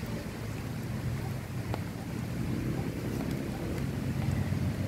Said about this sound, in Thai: ทั้งลมทั้งฝนแบบนี้